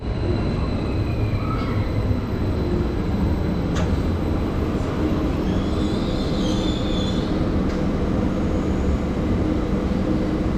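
A train arrives at a station in Germany, rolling loudly and steadily with rumbling wheels and occasional high metallic squeals, a continuous close rail noise.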